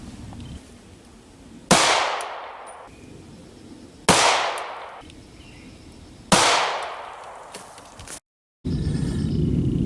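Three 9mm Hornady Critical Duty 135-grain +P rounds fired from a CZ P07 pistol: three loud, sharp bangs a couple of seconds apart, each followed by a ringing, decaying tail over low background noise.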